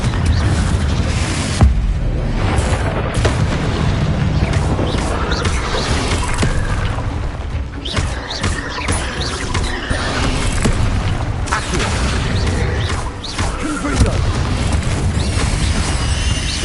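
Confringo fire spell in the Hogwarts Legacy video game, heard as continuous loud, dense game sound with muffled booms and crackling throughout, no distinct single blast standing out.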